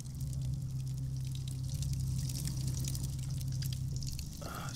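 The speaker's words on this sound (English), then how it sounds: "Sounds like running water coming through the controller" Running water heard in the PS4 game Dreams, a steady trickling, dripping flow with a low constant hum beneath it, continuous and fairly quiet throughout.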